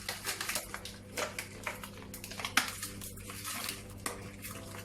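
Slightly frozen lardons tumble into a pan with mushrooms, giving a run of close, crisp clattering ticks and scrapes against a steady low hum.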